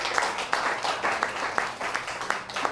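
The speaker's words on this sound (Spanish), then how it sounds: "Demos un buen aplauso, amén." A small gathering claps in a fairly regular rhythm, individual hand claps standing out as distinct beats over a softer bed of applause, moderately close and without talk.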